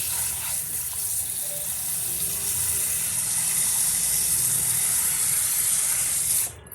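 Water running steadily from a tap or being poured into a pot in a home kitchen to boil fish curry ingredients, a continuous hissing gush that holds at an even level before stopping abruptly at the end.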